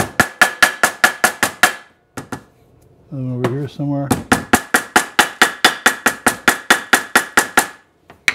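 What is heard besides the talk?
ball peen hammer striking metal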